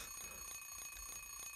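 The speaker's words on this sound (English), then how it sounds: "Oh, it's an alarm clock." An alarm clock rings in the Silent Hill 3 video game, a steady electronic beeping in rapid repeated pulses that continue unbroken and fairly loud.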